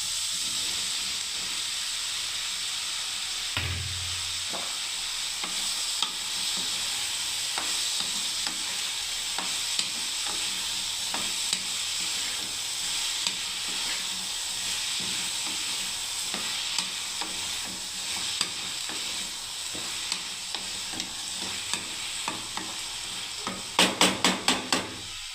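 Ridge gourd stir-frying in a hot pan, a steady loud sizzle and hiss with occasional stirring scrapes and clicks, and a brief burst of sharper crackling near the end.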